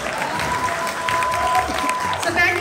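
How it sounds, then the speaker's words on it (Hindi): Crowd clapping for a host, a short burst of applause blended with voices and background chatter. "अब मेरे लिए तालियां।"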